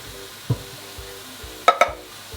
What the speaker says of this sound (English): Give those a chop up with a spoon. Push them round. Stir in.